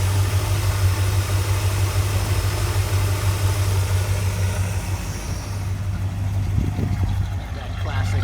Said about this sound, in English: That classic 350 Chevy sound.